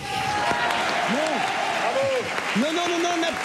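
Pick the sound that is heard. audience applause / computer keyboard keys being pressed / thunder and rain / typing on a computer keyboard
audience applause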